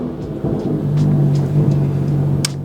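A BMW F87 M2 engine with a fresh Bootmod3 stage 1 tune on 93 octane starts up and settles into a loud, steady idle hum, with a brief bright click near the end.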